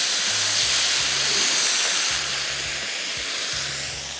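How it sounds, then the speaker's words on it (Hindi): Minced meat frying on high heat in a pan, giving a steady, loud sizzling hiss that fills the scene with no talking, alongside a low repeating hum underneath. "तेज़ आंच पे फ्राई करना है,"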